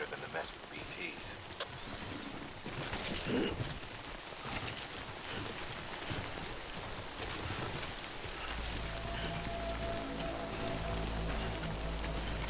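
Steady rain patters down in the Death Stranding game world, a continuous hiss of drops on surfaces, joined midway by a low droning hum, with a voice speaking over it.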